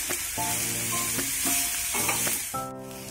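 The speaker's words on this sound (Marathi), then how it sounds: "आता ही जी कंटोळी आहे ती आपण टाकूया, पुन्हा व्यवस्थित मिक्स करून घेऊया" Kantoli, a monsoon vegetable, sizzles and fries in spices in a pan while a spoon stirs it in several distinct scraping strokes, close up with no talk.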